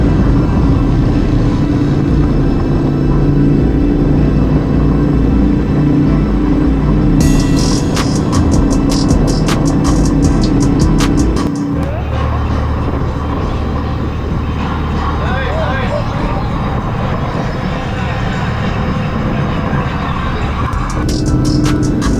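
A loud, continuous engine drone with shifting rumble, like riding along on a motorcycle, with wind and road noise throughout.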